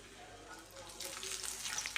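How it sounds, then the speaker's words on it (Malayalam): Urad dal frying in a pan, a soft, close sizzle with light crackling that grows a little busier toward the end, faint overall. "ഉഴുന്നു പരിപ്പ് ഇട്ടിട്ട് വറുത്തെടുക്കുമ്പോൾ അതിന് പ്രത്യേക ഒരു സ്മെല്ലാണ്"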